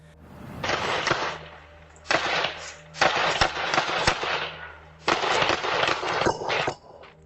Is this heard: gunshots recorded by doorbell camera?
yes